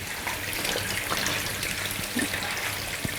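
Water runs and trickles steadily while sprouted seeds are rinsed in a kitchen strainer, a continuous close tap-like flow with faint patters and no talk.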